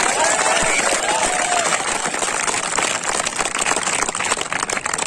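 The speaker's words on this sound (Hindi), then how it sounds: "एक बार जोरदार ताली बजाइए उसके लिए।" A crowd at a Bihar police sub-inspector coaching batch event claps and cheers loudly and continuously, a dense roar of applause filling the whole stretch.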